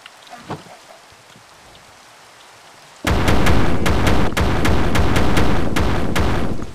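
Heavy rain in the video game Beyond the Skies switches on abruptly after a near-silent stretch, a loud, steady wash of downpour with sharp crackling strikes scattered through it.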